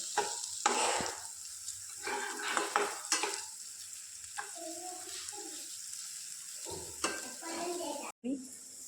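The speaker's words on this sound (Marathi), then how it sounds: "आता हा छान सर्व परतून घेऊ आपण तेलात" Coriander powder and a finely ground garlic, coconut and coriander paste fry in hot oil while being stirred. A steady close sizzle runs throughout, with scraping spoon strokes and light clinks against the pan.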